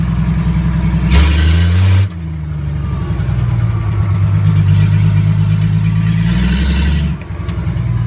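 A Nissan Patrol turbo diesel race car engine runs steadily close by, with loud, rough low-pitched throbbing that rises in two brief bursts of revving before settling back to a lumpy idle.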